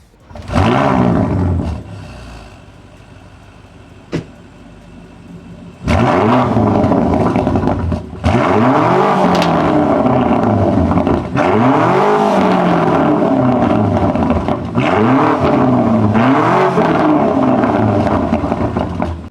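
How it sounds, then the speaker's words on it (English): A BMW G90 M5's V8 engine starts with a loud crackle, settles into a rumbling idle, then revs hard repeatedly, its exhaust roaring and rising and falling in pitch. "let me show you the exhaust now because that is sounding mint as well"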